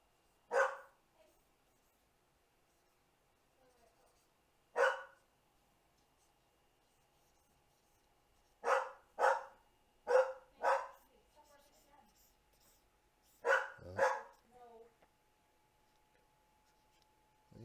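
A dog barks in sharp single and doubled bursts, fairly near, separated by quiet gaps with a faint steady hum beneath and nobody speaking.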